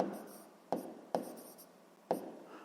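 Pen or pencil writing on paper while solving a sixth-grade maths exercise, a faint continuous scratching broken by a few sharp taps as the pen strikes the page, close and quiet.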